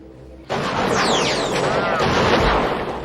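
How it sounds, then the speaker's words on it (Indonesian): Gunfire from the 1993 film Sniper: a sharp report cuts in after a brief quiet stretch, followed by whizzing, ringing tails and echoing rumble over a noisy action soundtrack. "Ia melepaskan tembakan pada medali emasnya yang sengaja digantung untuk menarik perhatian Thomas"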